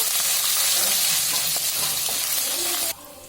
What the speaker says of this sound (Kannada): ಜೀರಿಗೆ ಒಂದು ಸ್ಪೂನು ಶುಂಠಿ ಒಂದು ಇಂಚಷ್ಟು ಸಣ್ಣದಾಗಿ ಕಟ್ ಮಾಡ್ಕೊಂಡಿದ್ದೀನಿ ಎಲ್ಲ ಫ್ರೈ ಮಾಡ್ಕೋಬೇಕು